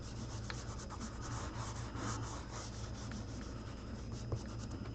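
Pastel chalk rubbed across a sketch on paper, a soft continuous scratchy rubbing heard up close and fairly faint, steady with no pauses.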